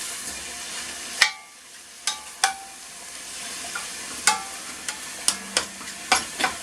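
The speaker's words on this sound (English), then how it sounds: "Just going to leave this mince to cook down" Pork mince frying in a pan for stuffed peppers, a low constant sizzle broken by a dozen sharp scrapes and taps of a utensil stirring against the pan, close and without talk.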